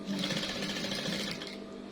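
A sewing machine runs steadily, stitching fabric 1.5 cm from the edge while making a Turkish-style ruffled kitchen curtain, a continuous close mechanical whir that eases slightly toward the end.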